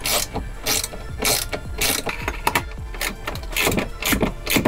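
A hand ratchet tightens a locking nut while a power running board is mounted on a Ford F150, giving rapid clicking strokes in repeated bursts, close and loud.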